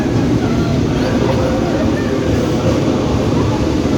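A KRL JR 205 commuter train pulls out of Manggarai station bound for Cikarang, a steady, loud rumble of wheels and motors filling the air throughout with no break.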